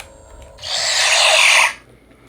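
A loud, hissing electronic whoosh from a Power Rangers toy morpher as its coin is removed swells up, holds steady for about a second, then cuts off abruptly; no one speaks.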